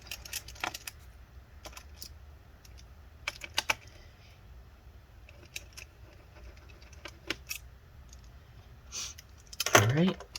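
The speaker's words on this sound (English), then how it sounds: "Just remove the 4 screws holding this caddy in place." Screws are removed from the hard drive caddy of a Dell Inspiron 5570 laptop; small close clicks and ticks of a screwdriver and tiny metal parts come in scattered bursts, ending in a louder rattling scrape.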